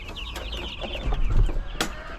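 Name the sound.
chickens clucking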